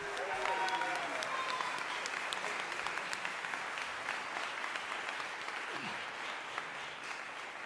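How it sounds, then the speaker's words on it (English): An audience applauds a high school jazz band at a sendoff concert, with dense, steady clapping sustained throughout and a few voices faintly heard under it. "Let's give them a round of applause for that."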